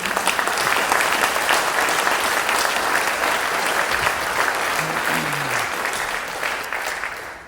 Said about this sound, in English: So let's give Mount Healthy a big round of applause for 125 years.